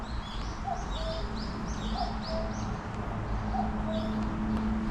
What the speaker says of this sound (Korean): 뻐꾸기 소리 오래간만에 듣네요.